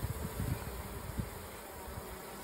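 A low, steady buzz of honey bees in a possum box during a comb cutout, with soft pulses and bumps over a continuous close hum.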